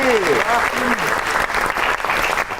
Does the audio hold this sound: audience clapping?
yes